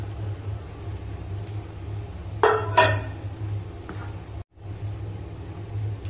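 Flour being stirred into jaggery in a pan for ladoo: a low steady hum with two sharp metallic clinks and scrapes of a utensil against the pan midway, then quieter stirring.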